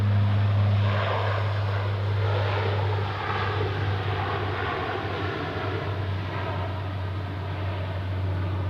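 A fixed-wing airliner's engines roar steadily during takeoff from runway 28 at Zurich Airport, a loud continuous broadband rumble with a strong low drone, heard alone without voices.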